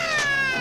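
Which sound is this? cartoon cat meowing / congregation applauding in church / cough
cartoon cat meowing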